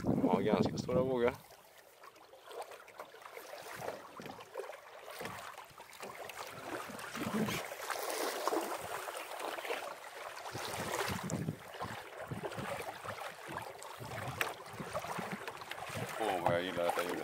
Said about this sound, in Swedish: Ja, ganska stora vågor.